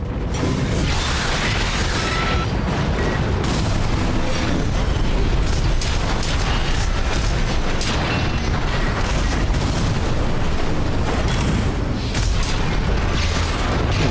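Booming explosions from enemy mechs in the Armored Core VI video game, a dense, loud, continuous barrage of blasts and mechanical clatter filling the whole stretch without a break.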